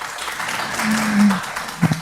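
A seminar audience at UNPAR gives soft, steady applause to welcome a guest speaker, the clapping diffuse and moderate throughout, with a voice briefly rising over it near the end.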